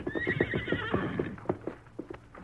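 A horse arrives without a rider, neighing loudly at the start while its hooves clop in an uneven rhythm that carries through the whole stretch.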